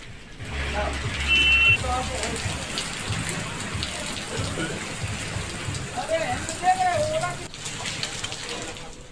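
Heavy rain with hail pours down along a highway in Uttar Pradesh, a dense steady hiss with vehicle noise passing beneath it, while a voice speaks over much of the downpour.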